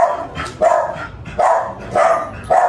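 A dog barks close by in a steady run of five loud, evenly spaced woofs, with no other sound in between.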